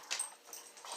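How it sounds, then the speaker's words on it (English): Dogs at play in the background give faint yips and whimpering squeals in short, scattered bursts through a quiet room, with no talking. "That noise right there, that's my dogs. They're playing."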